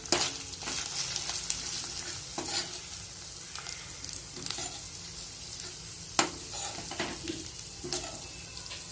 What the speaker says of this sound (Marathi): व्यवस्थित त्याला आपण परतून घेऊ